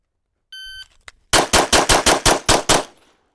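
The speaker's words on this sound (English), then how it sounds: "so you can see I'm shooting continually and keeping the gun moving" Eight rapid gunshots fire in a fast, even string during a shooting drill, loud and close, preceded by a short electronic beep of a shot timer.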